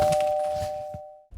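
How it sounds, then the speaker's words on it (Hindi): Doorbell chime rings once, a clear sustained ding that slowly fades out, heard fairly quietly over faint indoor background before a brief thump at the end. "डोरबेल कंटिन्यूअसली बज रही थी।"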